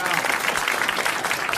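Studio audience applause on a French television talk show, a steady dense wash of clapping from the crowd that holds at an even, fairly loud level throughout.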